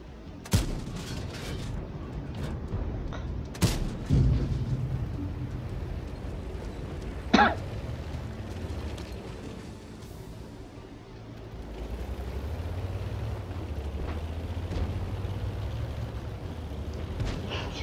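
Air support strikes in World of Tanks land as several sharp, distant explosions and booms spaced over a rumbling battlefield, with a few louder cracks standing out.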